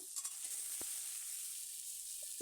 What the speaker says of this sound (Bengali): আলুগুলো প্রায় ভাজা হয়ে গেল